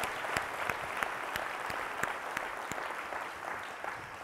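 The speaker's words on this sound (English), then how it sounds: "can we have one more round of applause for that group of winners" An audience at an arts awards ceremony claps steadily in a dense wash of applause, with a few sharper individual claps standing out, gradually tapering slightly.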